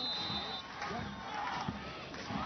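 High school football crowd in an Arizona stadium, Basha versus Chandler, rising to its feet at kickoff, heard as a steady roar of crowd noise with scattered shouts under a commentator's voice.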